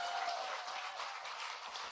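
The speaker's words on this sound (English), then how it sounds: "That deserves a round of applause." An audience at a political event in Albuquerque claps in a steady, moderately distant patter that holds evenly throughout, with no speech over it.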